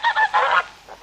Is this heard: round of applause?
no